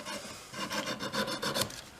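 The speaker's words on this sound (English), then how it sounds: "It's actually curved, and it just rides the top and does that final fine sanding for you" A curved file rasps back and forth over metal guitar frets in quick, even strokes, close up and fairly quiet, with no voices.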